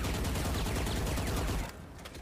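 A dense, close burst of rapid gunfire spray in Valorant fills nearly two seconds, then cuts off abruptly into quieter scattered noise.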